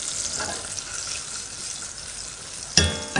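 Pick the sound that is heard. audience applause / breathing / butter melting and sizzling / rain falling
butter melting and sizzling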